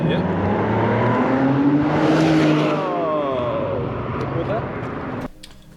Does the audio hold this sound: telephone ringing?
no